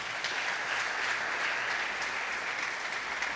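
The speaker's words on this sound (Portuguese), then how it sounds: "Dá um aplauso a Jesus aí." A church congregation claps together in a dense, even wash of applause that holds steady throughout without speech.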